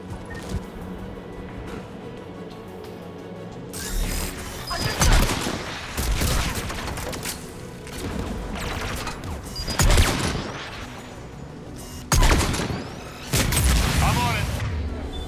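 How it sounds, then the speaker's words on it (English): Anti-aircraft guns fire in Mass Effect 3 in heavy, booming bursts that come and go in several waves over an ongoing game soundscape, with voices speaking briefly between them. "AA guns ahead."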